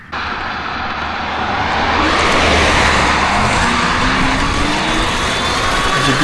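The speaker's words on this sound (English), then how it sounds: "Car coming." A car passing on the road beside a riding Happy Run G50 Pro 2000-watt e-bike, a loud rushing whoosh building and holding close by, mixed with wind noise.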